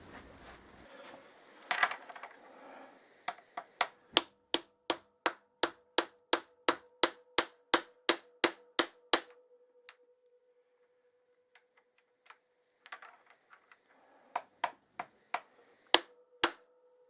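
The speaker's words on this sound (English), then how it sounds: "So now I just need to get a socket and just tap that home." Hammer strikes ring out on a socket as it taps a spacer home on a 1965 Triumph TR6 Trophy motorcycle, a steady run of about fifteen metallic taps, a pause, then another short burst of sharper knocks, close and clear.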